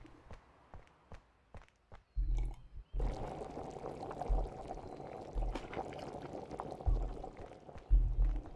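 A few soft footsteps lead into the steady trickle of tea being poured into a cup in the video game Car Dealership Simulator, a gentle liquid stream lasting several seconds with a couple of louder bumps.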